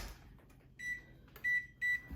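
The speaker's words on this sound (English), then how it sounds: "Set the timer for 45 minutes" A microwave oven in a home kitchen, used to time the rise of challah bread dough, gives three short electronic beeps: one softer, then two louder and close together, over faint room noise.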